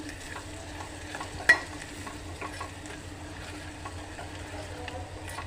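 Turmeric and asafoetida are stirred in a frying pan over a quiet, steady sizzle, with soft scrapes and one sharp clink of the utensil against the metal.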